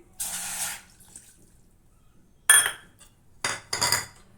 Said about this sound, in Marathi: त्यामध्ये आपल्याला हे पाऊन वाटी पाणी घालायचं आहे